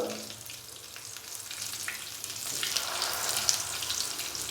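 Potato and lentil kebabs sizzle in a pan over a medium flame, a steady crackling fry that grows louder and brighter toward the end, with no talking.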